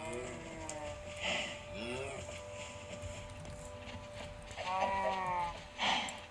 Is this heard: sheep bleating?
yes